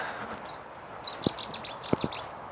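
Small birds chirp in short, high bursts against a quiet outdoor background, with a few soft knocks nearby.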